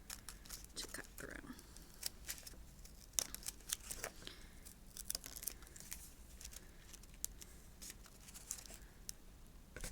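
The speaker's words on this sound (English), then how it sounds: "because they're so thick, you do have to put quite a bit of pressure on the scissors" Scissors snip through thick paper in quiet, repeated crunchy cuts with soft rustling between them, close and faint.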